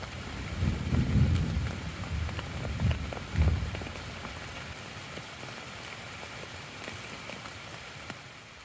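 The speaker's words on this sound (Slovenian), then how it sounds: "Že močno grmi." A night thunderstorm in the Julian Alps, where rain patters steadily on a surface and low rumbles of thunder swell in the first few seconds, then fade to a constant rain hiss.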